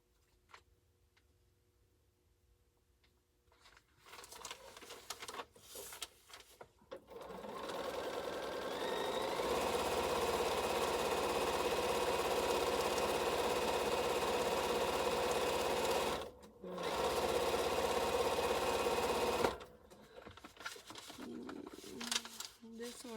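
A sewing machine stitches a string quilt block seam in a long steady whirring run, close and continuous, pausing briefly midway before resuming, with faint handling sounds before and after.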